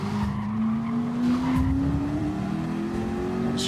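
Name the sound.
race car tires skidding under hard braking in Gran Turismo video game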